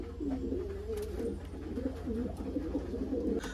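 Pigeons and their chicks coo in a steady, close, rhythmic murmur that runs throughout with no talk over it.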